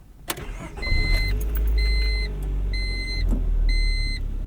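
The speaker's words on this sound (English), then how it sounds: "let's go ahead and take this 1999 Honda Civic EM1 Si for a drive." A 1999 Honda Civic EM1 Si with a 5-speed manual fires up and settles into a steady, close mid-pitched engine drone, while a repeating electronic chime sounds in four even bursts over it.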